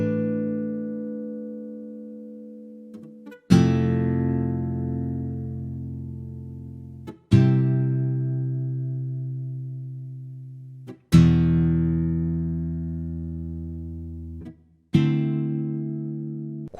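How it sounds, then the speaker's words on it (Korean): Sketch Sample Dreadnought acoustic guitar, a sampled MIDI instrument, playing a minor ballad progression: four chords struck roughly every four seconds, each ringing bright and then slowly fading, heard solo without voices. "이 기타만 한번 솔로로 들어볼게요"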